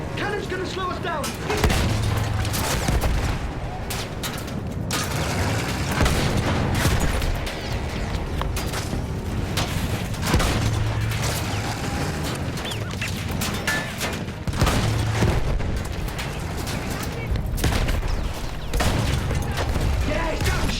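Cannon fire from ships during a sea battle thunders in repeated heavy booms and crashes under a dense, continuous roar of combat, with people shouting throughout.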